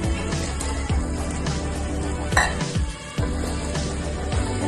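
Cooked mutton sautés in a pan with salt for biryani, a steady close sizzle under repeated scraping stirs of a spoon against the pan, with a few louder clatters.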